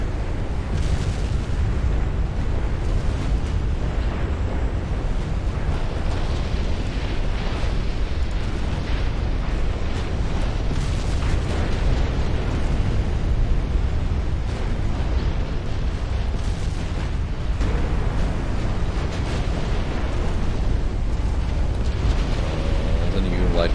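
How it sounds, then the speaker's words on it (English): Dense, continuous rumbling roar of shellfire and explosions from a naval battle in Ultimate Admiral Dreadnoughts, a British 1900 campaign, with repeated booming bursts layered over a loud, steady low-end din throughout. "Stuff really be exploding here."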